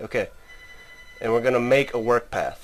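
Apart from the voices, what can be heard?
telephone ringing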